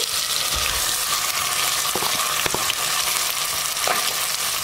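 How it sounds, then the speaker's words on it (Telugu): Chopped vegetables go into a pot of cooking sambar, raising a loud, steady sizzle close by, with a few soft clatters of stirring and no talk. "ఇప్పుడు మనం కట్ చేసి పెట్టుకున్న కూరగాయ ముక్కలన్నీ కూడా వేసుకోవాలి"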